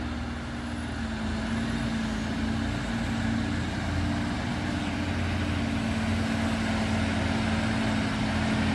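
Heavily loaded Tronton truck with a broken axle grinds uphill on Bukit Kodok, its diesel engine a steady, loud, low drone that holds constant throughout with no voices.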